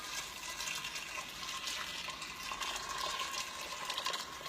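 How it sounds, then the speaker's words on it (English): Warm water is poured from a pot to cover soaking beans, making a steady, moderately quiet stream of splashing and trickling that runs without a break and without any speech. "I'm going to cover my beans with some hot to warm water."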